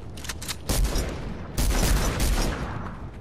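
Gunfire in the Fortnite battle royale game, OG season duo match: bursts of rapid shots crackle in two loud clusters, fairly close, with no talk over them.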